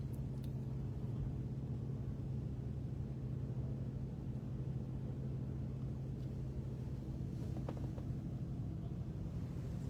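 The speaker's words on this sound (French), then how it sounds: "Comme vous voyez, les voitures qui prennent le départ de l'autre côté." A convoy of cars pulling away together, heard as a steady, continuous low engine rumble from start to finish, with a few faint higher ticks and no speech.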